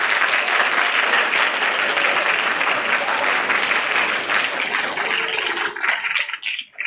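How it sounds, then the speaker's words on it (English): An audience at a school honor society awards ceremony applauds families in a dense, steady burst of clapping that fades out over the last second. "please give your families a round of applause"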